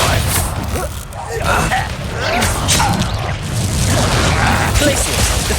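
Confringo fire blast spells in the Hogwarts Legacy video game, loud bursts and crashes in a busy battle mix with low rumble and whooshing. A voice is shouting over the fight throughout.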